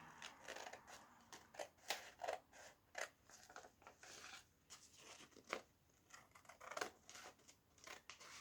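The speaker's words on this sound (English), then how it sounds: "And then you have to cut the piece of paper over" Scissors snipping through a sheet of paper while a bookmark is made, a series of close, crisp cuts in an uneven rhythm, fairly quiet, with no talking.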